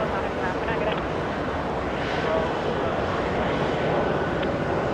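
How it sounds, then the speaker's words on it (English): A SkyWest Airbus A319 arriving at JFK gives off a steady broadband engine roar with a faint whine, heard at moderate level with wind noise and a voice talking over it. "Little Airbus A319 flying in from Bermuda."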